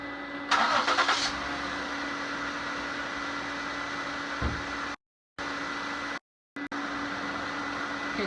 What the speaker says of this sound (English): So let me go ahead and start the vehicle up.